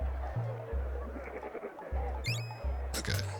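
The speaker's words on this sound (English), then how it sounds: "The goat does make sounds." Goat in the video game Secret of Evermore bleating in short repeated cries over a looping low, rhythmic game tune, with a brief chime near the end.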